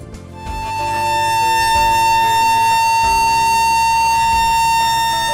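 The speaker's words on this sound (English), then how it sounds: "The emergency alarm consists of a combination of sirens outside and bells inside buildings." Emergency alarm sirens at an industrial site rise to a loud, steady wailing tone that holds, layered with a lower pulsing pattern underneath, no voices present.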